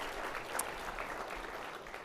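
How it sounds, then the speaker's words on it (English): Applause from a conference audience saluting the speakers at the close of a plenary session, a steady wash of many hands clapping at moderate distance, quite soft and without a break. "a big round of applause for all of our speakers"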